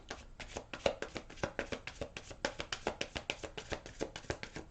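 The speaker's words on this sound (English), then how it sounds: "Let me get another shuffle going here for you." Tarot cards are riffled in a steady run of quick, crisp flapping bursts, close and fairly quiet, with no talking.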